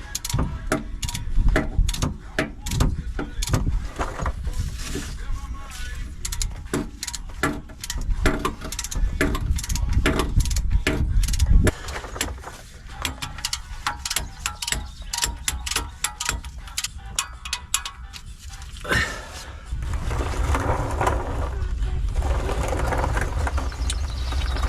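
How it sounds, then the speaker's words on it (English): A torque wrench clicks and ratchets while tightening a 10mm bolt on the oil pickup of a 2011 GMC Yukon Denali hybrid, rapid close metallic ticking in bursts over a low background hum. "we're going to torque this 10mm up on the bottom pickup"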